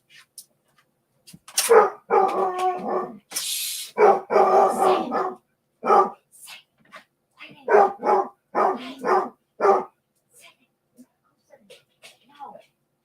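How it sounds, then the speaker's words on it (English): A dog barks and yips repeatedly in short bursts, close and loud, with a person's voice mixed in among the barks. "Sorry, guys, for fussing at my dogs, but Sammy gets loud."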